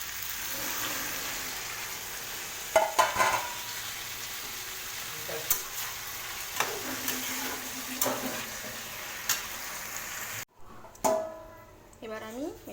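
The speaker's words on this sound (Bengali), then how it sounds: "ভালো করে নেড়ে নেব। সবজিগুলো প্রায় কষানো হয়ে গেছে।" Chopped vegetables for a bitter gourd curry sizzle in a pan while being stirred, steady frying hiss punctuated by sharp spatula scrapes and clatters, with a brief break before more stirring.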